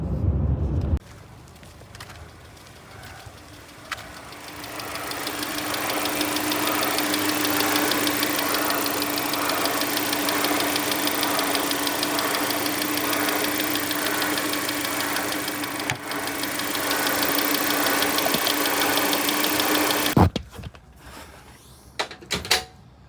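A car engine idling with its variable AC compressor engaged gives a steady mid-pitched drone and a faint internal knocking hum under the bonnet. It is heard up close for about twenty seconds before cutting out.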